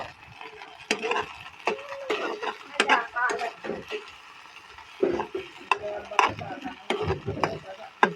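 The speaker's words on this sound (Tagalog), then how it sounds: "Kailangan halu-haluin kasi para hindi lumikit sa kawali." Sautéed sardines with egg stirred in a frying pan: repeated close scraping and scuffing strokes in uneven bursts, with a light sizzle underneath and brief pauses between strokes.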